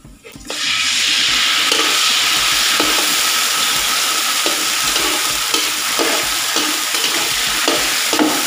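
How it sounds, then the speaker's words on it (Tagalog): Master Sardines hit a hot pan and break into a loud, steady sizzle, frying continuously up close with occasional stirring scrapes and pops. "igisa na natin yung Master Sardines"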